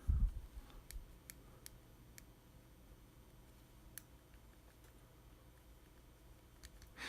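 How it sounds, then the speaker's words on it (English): Bezel of a Citizen Promaster dive watch turned by hand: a series of faint, sharp ratcheting clicks spaced irregularly against a quiet background, close to the listener. "It does have the click that I mentioned earlier that a lot of people in the forum seem to complain about"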